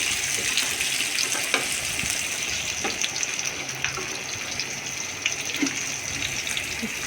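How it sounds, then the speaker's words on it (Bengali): Sliced onions fry lightly in a pan with a steady, close sizzle and occasional scrapes as they are stirred, continuous and without talk. "নেড়ে চেড়ে ভেজে নিলাম হালকা পেঁয়াজ দিয়েছে"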